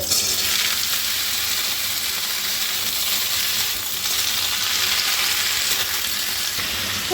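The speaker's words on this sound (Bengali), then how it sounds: "আলুটা দিয়ে আমি ভেজে নেব" Long-cut, washed potato strips fry in hot oil in a kadai for Bengali aloo posto, giving a steady, dense sizzle that holds close and loud throughout with no talking.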